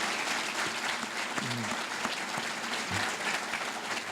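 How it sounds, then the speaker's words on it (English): Applause from a breakfast-event audience for the day's speakers, a dense, sustained clapping that carries evenly throughout, with a faint voice or two murmuring underneath. "If we could please have a round of applause for all of our speakers today."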